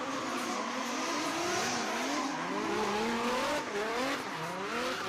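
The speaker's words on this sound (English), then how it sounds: "Car sounds amazing." A race car engine at Kern County Raceway revs up and down through gear changes with squealing tires, loud and close, sweeping pitch repeatedly.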